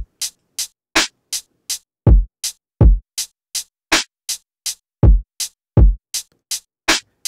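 Drum pattern in 6/8 time programmed in Serato Studio: crisp hi-hat ticks alternate with deep kick hits in an even, repeating groove, loud and clean with no voices.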